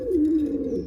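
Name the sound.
baby pigeons cooing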